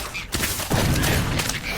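A Fantastic bomb spell bursting in the Harry Potter: Magic Awakened video game, a dense, loud crackling blast that swells in two quick surges and fills the whole brief moment.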